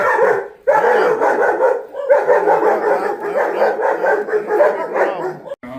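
Several excited puppies bark and yip almost continuously at a veterinary clinic, close and loud, in rapid overlapping bursts with brief pauses, while other dogs are present.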